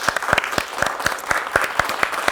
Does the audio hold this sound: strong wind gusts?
no